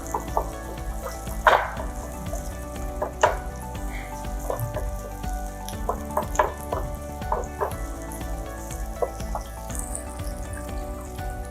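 Celery and chopped tomato sauté in a pan for homemade baby food, giving a gentle continuous sizzle with scattered soft clinks and stirring scrapes close by, with no speech.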